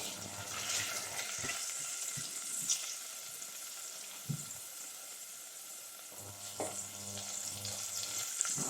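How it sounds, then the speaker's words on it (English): Oil infusing in a pan for chicken tikka masala sizzles softly while being stirred, a faint steady crackle with occasional spoon knocks and scrapes. "All I'm doing is infusing this oil."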